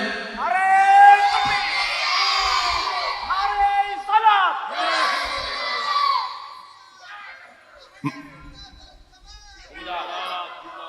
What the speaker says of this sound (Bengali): চাই জিন্দা থাকলে একটা জোরসোর তাকবীর দেন তো একজনে।